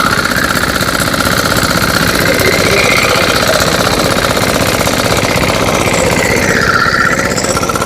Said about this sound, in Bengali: ধান মারার জন্য আমাদের গ্রামে এটার নাম হচ্ছে খেসরা মেশিন।